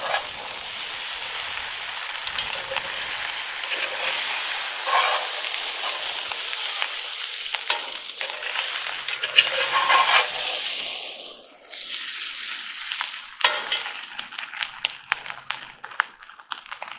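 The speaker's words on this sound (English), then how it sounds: "Take and stir all that together." Breakfast ingredients are stirred in a Dutch oven at an outdoor camp cook, a hissing sizzle with scraping strokes that thins out and turns to scattered clicks and taps near the end.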